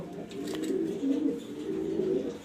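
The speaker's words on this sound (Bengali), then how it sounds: "এটা একটা আমার পছন্দের কবুতর দেখতেই পারতেছেন রোমান গাল নর কবুতর" A male Roman Gall pigeon coos in a steady, throaty, low rolling pattern, close and continuous, with no voices heard.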